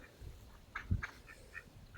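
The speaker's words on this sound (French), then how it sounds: "Les canards." Ducks quacking in a series of short calls on an autumn day in Belgium, fairly faint and distant against a quiet outdoor background.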